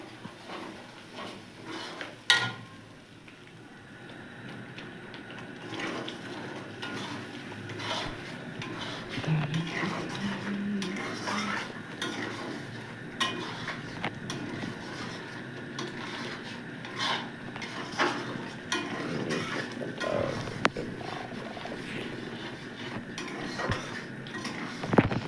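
Spice paste with turmeric stirred and fried in a pan, a spoon steadily scraping and clinking against the metal for a long stretch beneath a soft frying hiss.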